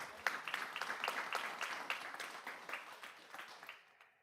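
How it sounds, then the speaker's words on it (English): Applause from a modest crowd at a school board meeting, steady overlapping claps heard from a distance at low level, tapering off to silence at the end. "Let's give a round of applause to all of the schools that participated"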